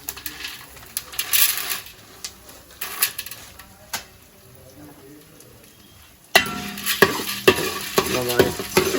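Chana dal and urad dal fry in sesame oil while a spoon stirs them in the pan, a soft sizzle under scraping clicks, quieter at first then louder and busier near the end, with no voices.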